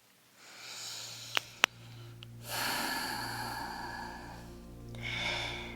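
Slow, deep breaths during a yoga session, each inhale and exhale a soft, close airy rush, with a couple of brief clicks early on.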